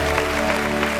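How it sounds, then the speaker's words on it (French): A studio audience at a French live show claps in a brief, dense burst of applause over background music. "je vous demande encore plus d'ovation, s'il vous plaît, pour la tenue de Fior."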